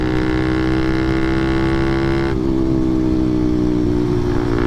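A 181cc Honda Monkey motorcycle in 5th gear at about 6,000 rpm, its engine droning loud and close with a steady rising pitch that drops abruptly midway as the throttle is worked, then continues droning.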